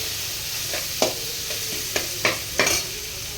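Hakka noodles with salt are stirred in a pan: four or five sharp scraping clatters of the utensil against the pan over a low, steady sizzle.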